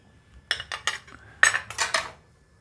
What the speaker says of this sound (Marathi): हे सर्व बॅटर मिक्स करून घ्यायचं आहे।